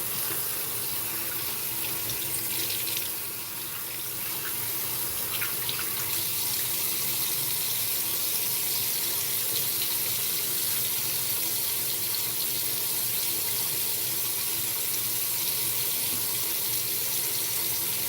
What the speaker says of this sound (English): do a light rinse real quick.